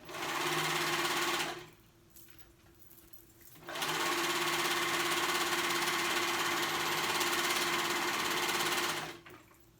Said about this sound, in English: Okay, so I'm gonna sew this side up.